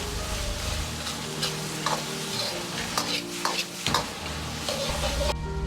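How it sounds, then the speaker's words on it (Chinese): Diced eggplant stir-fried in a wok with hang peppers, bird's-eye chilies and diced onion: a constant bright sizzle under a series of busy spatula scrapes and clanks, nearby and fairly loud. "再倒入杭椒、小米辣和洋葱丁，"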